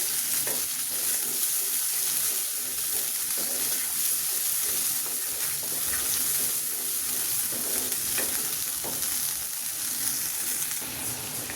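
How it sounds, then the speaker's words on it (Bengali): A nut-based spice paste fries in a pan for a spinach and egg curry, giving a steady, close sizzle with soft stirring throughout and no voices. "এটা একটু ভালো করে ভুনে নেই।"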